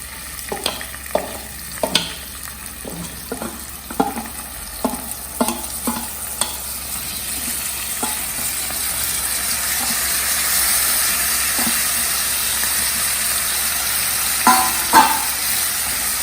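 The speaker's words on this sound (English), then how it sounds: "Once it starts crackling, then you put in your dal." Dal sizzles and fries in a pot of hot oil with bay leaf while a spoon stirs it, scraping and knocking against the pot in irregular taps over a steady close hiss, with no talking.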